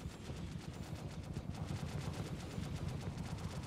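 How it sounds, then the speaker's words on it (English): Rapid gunfire from a crewed Hammerhead gunship in a Star Citizen space battle, a dense continuous rattle of shots with a steady rumble underneath. "That was a railgun shot."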